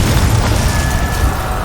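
A Confringo spell explosion in Hogwarts Legacy comes across as a loud, sustained low boom filling the whole moment, steady and heavy without a sharp attack.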